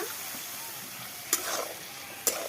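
Kashmiri chili powder is stirred into frying chana and peas for vegetarian ghugni, with a steady close sizzle and two sharp scrapes of the spoon against the pan.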